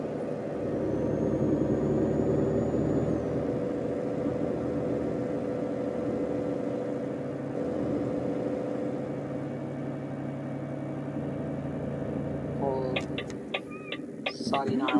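Steady humming car engine in a driving simulator game at dusk, droning at a constant low throb for most of the stretch, with brief clicking and beeping sounds near the end.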